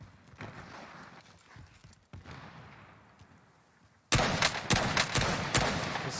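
Gunfire in a video game, with faint scattered shots and rattling early on, then a sudden loud burst of rapid, dense firing that keeps going to the end.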